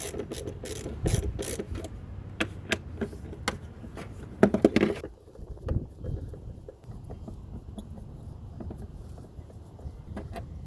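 A ratchet wrench loosens number 10 screws on a 2006 Nissan Pathfinder 4.0 SUV during a fan clutch replacement, with repeated quick clicking pawl bursts in the first half, then quieter handling.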